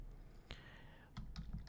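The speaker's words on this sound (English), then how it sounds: "let's type something very obscure" Computer keyboard typing out a domain name: a few quiet key clicks, a short burst near the start and a quick cluster of taps toward the end, close and soft with no talking.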